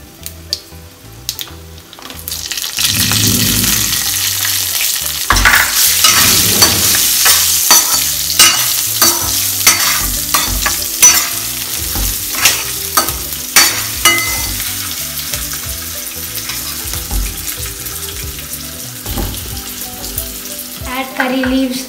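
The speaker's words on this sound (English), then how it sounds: "Now let's add chopped ginger and green chilies." Chopped ginger and green chilies tossed into a pan of frying groundnuts, loud hissing sizzle with repeated scraping clacks of a spatula stirring, the spatter swelling and easing as the pieces are moved around.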